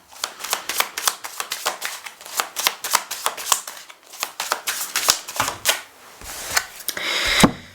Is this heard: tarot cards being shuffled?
yes